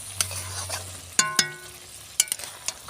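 Cauliflower curry with ghee gets stirred in a pan: quiet sizzling under a few distinct sharp metallic spoon scrapes and taps, close and intermittent.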